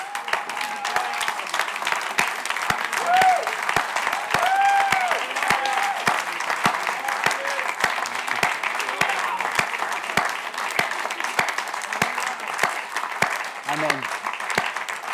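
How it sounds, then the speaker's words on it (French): A church congregation at a Sunday service applauding, dense sustained clapping from a crowd in a reverberant hall, steady throughout with voices murmuring underneath. "donc on a applaudi"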